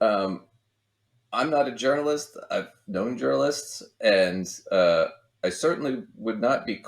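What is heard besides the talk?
No everyday noises stand out.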